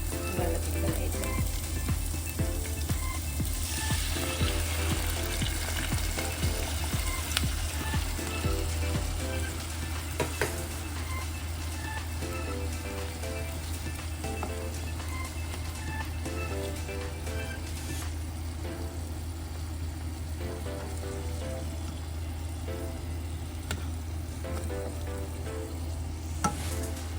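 Onion and ginger sauté in a frying pan for a mackerel dish, giving a steady, close sizzle with occasional stirring clatter and no one talking.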